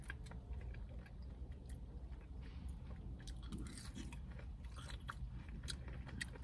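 Crunching bites and steady chewing of Wendy's regular fries, close to the mic, a continuous mouthy crunch with no speech.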